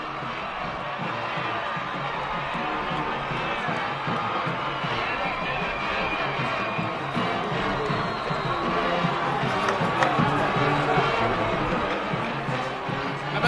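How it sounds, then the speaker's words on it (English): High school football crowd at a McKinney North vs Highland Park game roaring after a touchdown, a sustained wash of cheering and whoops from the stands that swells toward the end, with a commentator talking over it. "Listen to that McKinney North crowd."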